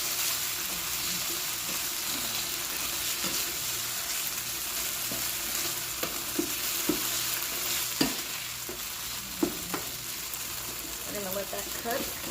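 Chicken sizzles steadily in a frying pan while a utensil stirs it, the frying hiss constant beneath scattered scrapes and clicks against the pan that sharpen toward the end.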